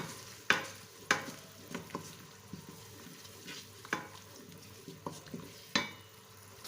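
Masala cooking down with a little water in a pan, stirred with a utensil: a quiet, soft sizzle punctuated by a dozen irregular scraping knocks against the pan.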